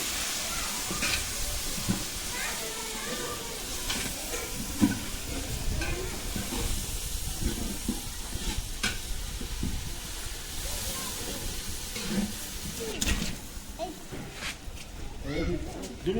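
Onions and tomatoes with turmeric and spice paste sizzle and are stirred in a pot over a village fire in Himachal, a continuous crackling hiss with scraping stirs while a voice talks over it.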